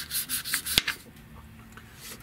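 Grime is rubbed off car parts by hand on a 1973 Buick Electra being restored, heard as a close, rough scrubbing and rasping with a sharp knock partway through, and no talking.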